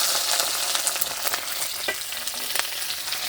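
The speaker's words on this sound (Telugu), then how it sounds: "ఇప్పుడు 2 చెంచాలు నూనె వేసుకొని క్యాప్సికమ్, ఉల్లిపాయలు కూడా 2 వేయించుకుని పక్కన పెట్టుకుందాం." Capsicum and onions fry in two spoons of oil for a kadai veg curry, giving a steady close hiss of sizzling with small crackles and an occasional stirring scrape.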